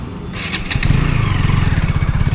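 A motorcycle engine catches and settles into a close, steady idle with a rapid even chugging pulse, preceded by a few sharp mechanical clicks.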